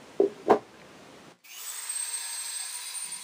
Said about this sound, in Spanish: Toca taladrar un poco para que se hundan.